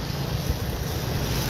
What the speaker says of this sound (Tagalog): Kaso lang malakas talaga yung tubig, umapaw.